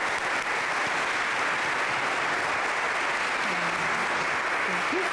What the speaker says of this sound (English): Everyone, let's give a round of applause for Jesse Sharkey